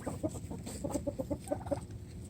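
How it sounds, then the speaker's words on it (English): Farm chickens dust bathing under a trailer give a quick string of soft, evenly spaced clucks, close by, over a faint outdoor background. "And then we see our chickens up under there."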